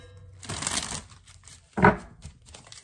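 Soft riffling and a sharp flutter of tarot cards being shuffled, two brief bursts of papery crackle in a quiet room.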